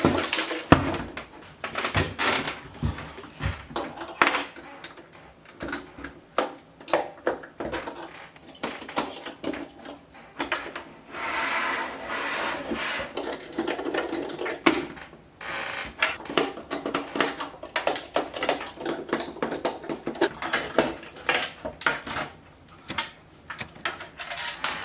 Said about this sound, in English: the first thing I'm gonna take apart is the shredder that we picked up at the first store